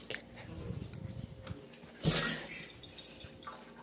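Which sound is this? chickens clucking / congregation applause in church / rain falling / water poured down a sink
water poured down a sink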